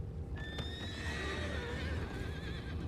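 A horse in Red Dead Redemption 2 gives a clear, drawn-out whinny with a wavering pitch, heard over low rumbling game ambience.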